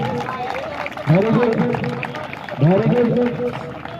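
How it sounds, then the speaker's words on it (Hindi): Crowd clapping and cheering for candidates running laps of a 1600 m police running trial in Bihar, a continuous outdoor roar of applause and voices with someone talking over it. "ताली तो बजा दीजिए, ताली बजाइए"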